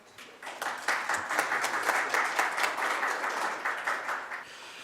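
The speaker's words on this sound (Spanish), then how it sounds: "Un aplauso, por favor." An audience at the PERUMIN 32 mining technology and research session claps for a presenter. The applause swells quickly, with distinct individual claps over a steady patter, then tapers off after about four seconds.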